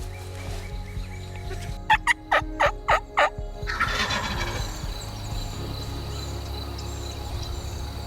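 Wild turkeys gobble five times in a quick series, loud and fairly near, against an outdoor hunting background with steady low hum and faint insect or bird sounds afterward.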